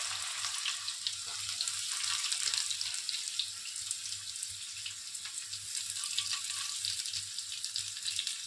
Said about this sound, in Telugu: ఇప్పుడు వీటిని వేసేసి మంచి గోల్డెన్ కలర్లో వచ్చేంత వరకు ఫ్రై చేసుకుందాము